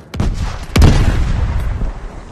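Gunfire in the VR shooter Zero Caliber 2: two loud, close shots crack out about half a second apart, each leaving a booming, reverberant tail that rolls on afterward.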